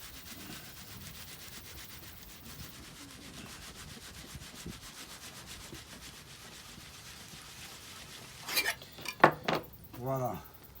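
A knife scrapes and rubs along a whole salmon while filleting it, soft steady sliding strokes that end in a few louder metallic knocks and scrapes from the blade.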